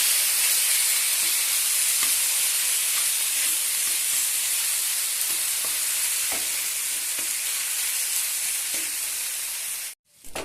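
Onion with ginger-garlic and dried red chilli paste frying in a pan gives a loud, continuous close hiss of sizzling oil, with faint scraping stirs throughout, before it cuts off abruptly near the end.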